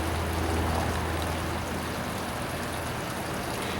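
Water flushing out of an RV black tank drain, a constant loud gushing rush with no pauses.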